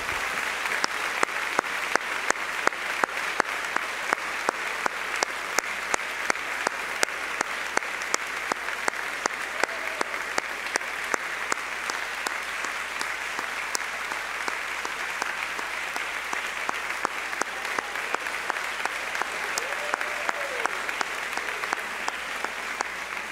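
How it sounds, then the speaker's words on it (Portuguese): An audience applauds grandparents, a grandfather and grandmother, with steady, dense clapping that holds evenly for over twenty seconds without talk. "Será que você poderia dar uma salva de palmas para esse avô e para essa avó?"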